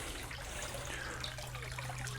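Water overflowing into a tank of an aquaponic deep-water-culture system inside a polytunnel, a soft continuous trickle and splash with a low steady hum beneath it, fairly quiet and without talk.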